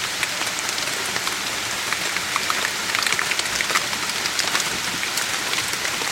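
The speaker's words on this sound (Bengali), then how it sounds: "আবার বৃষ্টি আসছে।" Steady rain pattering on the roof of a truck during an overnight camping stay, a dense continuous hiss with scattered louder drops, close and even throughout with no voices.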